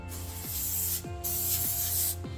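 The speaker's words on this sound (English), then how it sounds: "Just spray each potato with that oil." Cooking spray oil misted onto potatoes for baking, three short hissing bursts from an aerosol can separated by brief pauses, close and clear.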